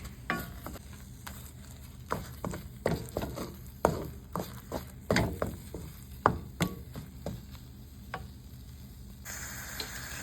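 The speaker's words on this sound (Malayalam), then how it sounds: "നെയ്യ് ഇട്ടിട്ട് ഒന്നും കൂടി നന്നായി മിക്സ് ചെയ്ത് കൊടുക്കുക കേട്ടോ" Fenugreek lehyam being stirred with ghee in a pan at home, a spoon scraping and knocking against the pan in uneven repeated strokes over a low, steady sizzle, close and alone with no talk.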